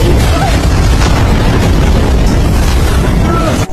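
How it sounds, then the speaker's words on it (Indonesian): A film explosion as a character blows himself up, a loud dense booming rumble filling the whole moment with heavy low roar, continuous and close. "Carol pun jatuh sambil meledakkan diri"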